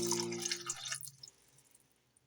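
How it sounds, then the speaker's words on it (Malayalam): A short splash of water being poured into a pot of Kerala-style tomato curry, quickly trailing off into a few quiet drips and near silence. "കറി വേവിക്കുന്നതിന് വേണ്ടി കുറച്ച് വെള്ളം ഒഴിച്ചു കൊടുക്കാം."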